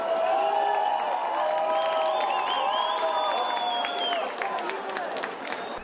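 Protesters at a toll plaza in Brazil burst into clapping and shouting after a riot police battalion arrives, a dense, loud crowd roar with whoops and voices sustained throughout, easing slightly near the end.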